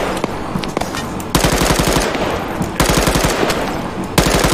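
Enemy automatic weapons firing in Arma 3, loud sustained bursts of rapid machine-gun rounds broken by brief pauses, dense and close, with no talk.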